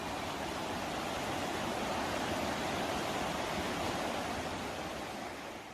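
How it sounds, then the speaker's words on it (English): A river flows behind a village house in Mandal, Uttarakhand, making a steady, even rushing of water that fills the whole clip without voices. "the river flowing at the backyard"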